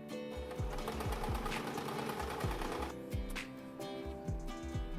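A sewing machine stitches seams in a folded fabric rectangle for a homemade door stopper, a steady, rapid mechanical clatter with a pulsing low thump that runs without pause. It is close and continuous, with no voices.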